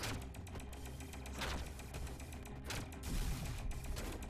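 Rapid automatic gunfire from security forces in the video game SHIFT, a dense continuous rattle of shots with louder bursts, close and steady throughout with no talking.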